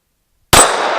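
A gunshot hits a steel target at a shooting range, ringing out as one sharp, loud metallic clang after silence, then a bright ring that decays briefly.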